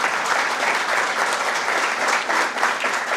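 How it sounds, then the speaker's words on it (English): Steady, full audience applause for a panel at the close of a coaching talk, a dense wash of many hands clapping continuously with no speech over it. "A round of applause for our panel."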